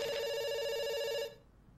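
A single sustained electronic telephone ring, bright and steady, cuts off after about a second in the video game Dr. Langeskov, The Tiger, and The Terribly Cursed Emerald.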